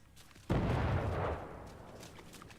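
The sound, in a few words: explosion in the video game The Culling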